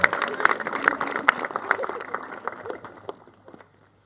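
Scattered clapping from a church congregation during a sermon, uneven and moderately loud, thinning out and fading over a few seconds.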